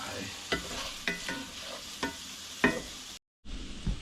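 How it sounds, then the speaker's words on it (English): Chopped onions sizzle in a frying pan, cooking down for homemade Swedish meatballs, a steady close hiss broken by several sharp scrapes and taps of a spoon stirring against the pan, ending with a brief cut of silence. "We got the onions cooking down here."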